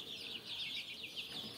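Eighteen-day-old tiger breed chicks on a farm peep in a continuous, faint, overlapping chorus of high chirps with no talk.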